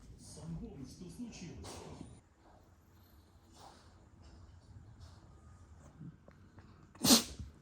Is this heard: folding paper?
no